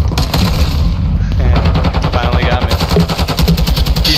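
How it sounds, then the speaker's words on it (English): Heavy automatic gunfire in a first-person shooter match on the Alboran Hatchery map, with loud dense bursts of rapid shots rattling close throughout while voices talk over the shooting. "He's shooting at my dead body"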